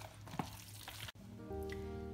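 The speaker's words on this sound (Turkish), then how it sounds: "Şimdi karıştırmaya devam ediyoruz." Lahmacun filling seasoned with chili flakes and salt is stirred in a bowl, giving a soft, steady wet mixing rustle with a faint tonal hum behind it, quiet and continuous.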